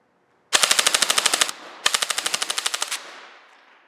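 An airsoft AR rifle with a high-cap magazine fires two rapid full-auto bursts, each roughly a second of evenly spaced sharp cracks, loud and close, with a brief gap between and a fading tail.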